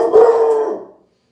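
A dog barks and howls in one loud, close, drawn-out yowl that fades over about a second, set off by the mail carrier arriving at the house.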